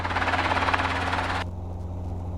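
Helicopter flying during a training flight, a steady rhythmic rotor thump over a low engine drone, heard from close inside the aircraft; the higher whine cuts off partway through while the drone continues.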